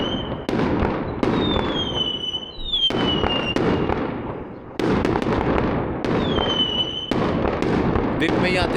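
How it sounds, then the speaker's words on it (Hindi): Daytime fireworks burst in a series of sharp, loud cracks, each one followed by a short crackling tail, with whistling rockets rising between the blasts. "ये देखो आतिशबाजी भी शुरू हो गई है भाई।"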